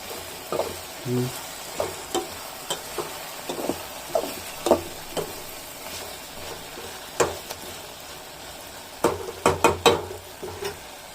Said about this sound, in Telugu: కారం పొడి, ఉప్పు, పసుపులో వేసిన వేసి కలుపుకుంటున్నా.